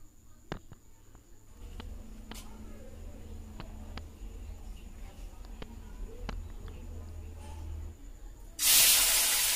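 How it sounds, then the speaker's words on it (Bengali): Cumin seeds and dried red chilies go into hot oil in a wok for a prawn dish. Faint scattered crackles give way to a sudden loud burst of sizzling at the very end. "কড়াতে আবার তেল বসিয়ে দিয়ে তাতে সাদা জিরা একটু শুকনো লঙ্কা ফোড়ন দিয়ে দেবো"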